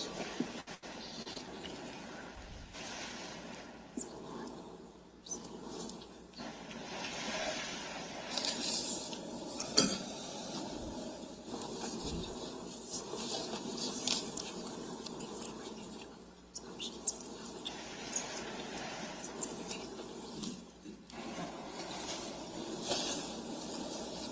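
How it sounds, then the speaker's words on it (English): Papers are shuffled and handled at close range, a soft, continuous rustling and sliding that runs on with occasional sharper crinkles and bumps. "Shuffling papers"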